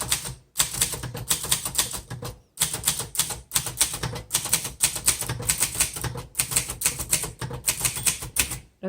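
Rapid keystrokes on a 1951 Underwood Finger Flite manual typewriter, dense clacking runs broken by a few short pauses, close and crisp throughout.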